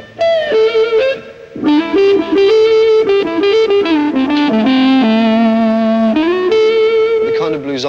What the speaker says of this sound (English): a kind of whining noise, usually described as woman tone